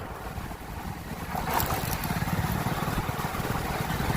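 Motorcycle being ridden home from the market, a low engine drone heavily buffeted by rushing wind noise that grows slightly louder partway through.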